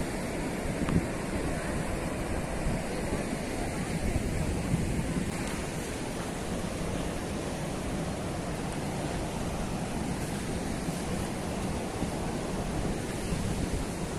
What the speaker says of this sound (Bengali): সমুদ্র এখানে একটু ঢুকে এসছে তাই ঢেউগুলো ছোট ছোট